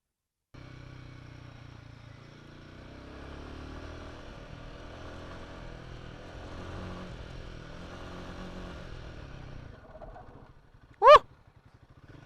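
Royal Enfield Himalayan 450 adventure motorcycle ridden off-road, its mid-pitched engine droning steadily and rising in revs for about ten seconds, then easing off as a sharp burst cuts in near the end.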